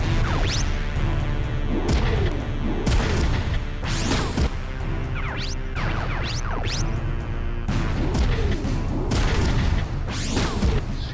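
Repeated explosions and heavy crashing impacts from enemy missile fire in the PS1 game Front Mission 3, loud dense booms arriving in irregular bursts across the whole stretch with no speech.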